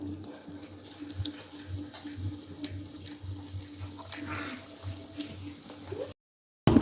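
Breaded potato-onion kebabs sizzle steadily in hot oil over a medium-to-high flame, a continuous close hiss with small pops, alone until it cuts off near the end.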